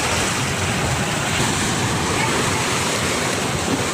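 Seawater floods into a house courtyard in a Koli fishing village, a loud, unbroken rush and wash of water with no let-up.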